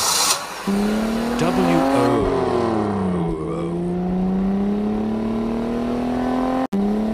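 A car pulls away and accelerates hard, its engine note climbing with a brief tire squeal, then settling into a steady loud drone close by before cutting off abruptly near the end.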